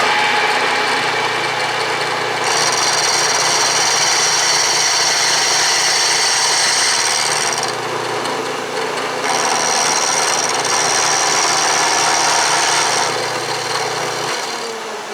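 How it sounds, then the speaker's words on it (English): A 3/4 inch Niagara carbide end mill cuts a cast iron drill press vise part on a milling machine, giving a loud, steady grinding whir over a constant motor hum that shifts in tone as the cut changes, with no talking. "And this is that nice 3/4 inch carbide end mill by Niagara."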